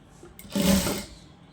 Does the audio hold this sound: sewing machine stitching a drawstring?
yes